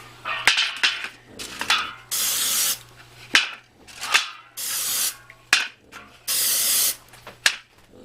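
Cooking spray hisses from a can onto pumpkin cinnamon buns on a cookie sheet, in five or six loud bursts of roughly half a second each, broken up by clinking and handling noises. No talking.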